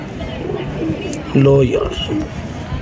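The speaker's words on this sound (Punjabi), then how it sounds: "ਇਹ ਦੇਖ ਲਓ ਦੋਸਤੋ, ਛੋਟਾ ਜਿਹਾ ਖੁੱਡਾ ਜੇ ਤੇ ਮਾਸ਼ਾਅੱਲਾ ਉਹ 12-13 ਕਬੂਤਰ ਨੇ" Pigeons coo from a small rooftop coop of a dozen or so birds, a low rolling coo rising clearly around the middle, with people talking nearby.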